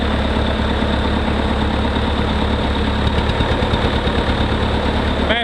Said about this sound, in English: Massey Ferguson tractor, and it's a diesel